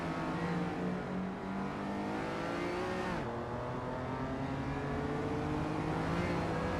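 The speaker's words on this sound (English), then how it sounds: "Indigo Peta is driving an Audi Sport Quattro from 1984." A 1984 Audi Sport Quattro races in a video game, its engine droning loud and steady with rising and falling revs and a brief gear-shift dip partway through.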